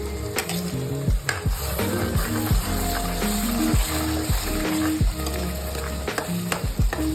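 Masala for a brinjal and potato curry cooking in a kadhai, a bubbling sizzle broken by repeated scraping strokes of a spoon stirring it, close and steady with no talk.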